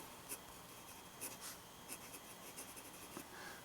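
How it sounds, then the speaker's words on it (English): A Parker 51 fountain pen with a medium nib, filled with Waterman Mystery Blue ink, scratches softly across paper in a series of short, quiet strokes that repeat at an even pace. "this one has more of a medium nib to it, and you can see the difference between how this one writes and how that one writes"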